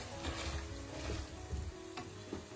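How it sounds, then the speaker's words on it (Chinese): Chili pieces deep-frying slowly in oil over low heat, a steady, moderately close sizzle with soft bubbling and a few light clicks from stirring, no voices. "开小火慢炸，慢慢的把水分炸出来"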